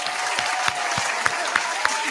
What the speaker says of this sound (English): Let me clap.